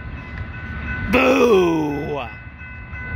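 Amtrak California San Joaquin train 719, led by a 2007 cab car, passes McKinley Avenue in Fresno, California, northbound for Oakland. A loud, near horn blast sounds for about a second, its pitch sliding down as it goes by, over a rumbling background. Someone shouts briefly.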